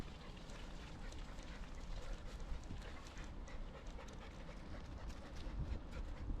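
A dog pants rhythmically while running alongside its owner, the quick breaths close and continuous over a steady rush of footsteps and outdoor noise.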